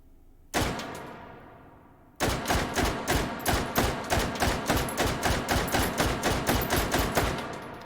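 An SKS carbine fires in the virtual-reality shooter H3VR: one loud shot rings out and fades, then after a pause comes a long, rapid, evenly spaced string of about twenty sharp reports, close and loud, with no talking.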